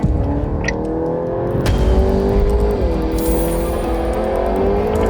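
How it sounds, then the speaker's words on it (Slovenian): A Volkswagen Golf GTI Edition 50 hot hatch on a race track: its engine drones loud and close, the pitch climbing and dipping as it accelerates through the lap. No one speaks. "Pa gremo zdaj s to posebno različico GTI-ja na progo."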